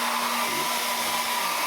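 A hair dryer blows steadily on a PS3 console to reflow it for the yellow light of death fault, a constant close whirring hum with a tonal whine, alone and unbroken throughout.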